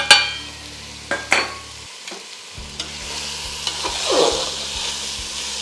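Tomato and ground masala paste sautéing in a pan, a soft sizzle broken by a few sharp spatula knocks and scrapes, close by, with a wetter rising fry toward the end.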